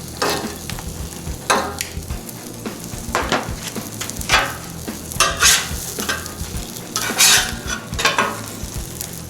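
Omelets and bacon sizzle steadily on a Blackstone griddle, with a spatula stirring and scraping in repeated bursts over the continuous frying hiss, close and fairly loud, no talking.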